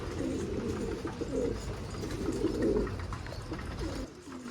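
A captured stray female pigeon gives repeated throaty coos in rolling phrases, close and clear over a steady low background rumble.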